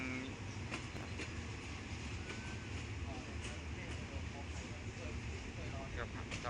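A passenger train rolls along the rails in Thailand during Songkran, a steady rumbling ride with faint rhythmic clacking, while people talk over the carriage noise.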